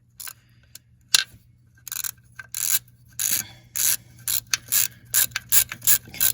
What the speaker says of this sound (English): our hose clamp, it's a 6mm on the head. We're just gonna loosen her up a little bit.